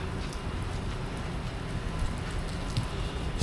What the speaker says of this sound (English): That's the rain on, folks.